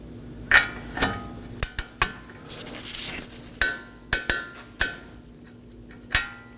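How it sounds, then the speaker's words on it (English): A torque wrench tightening a CV axle bolt on a 2018-2024 Chevrolet Equinox to 26 foot-pounds, producing a series of sharp metallic clicks and clanks at uneven intervals, close and fairly loud, with quiet gaps between. "Now we're going to go ahead and torque this to 26 foot-pounds."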